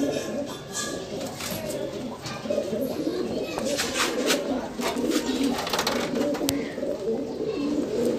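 Topidar flying pigeons, a Saharanpuri breed, coo in a low continuous rolling chorus close by, with soft voices faintly underneath.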